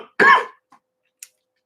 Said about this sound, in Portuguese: Tô aqui tossindo.